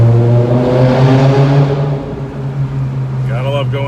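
A BMW E60 M5 engine drones loudly and steadily while driving under a bridge, its layered harmonic tone holding close and strong throughout, softening slightly toward the end.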